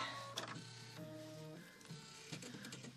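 An embroidery machine stitching out a green satin stitch on a quilt project, with a close, steady mechanical whirring and rhythmic needle chatter, a few brief tonal motor whines, and no talk.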